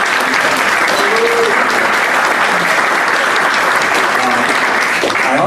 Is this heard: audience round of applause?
yes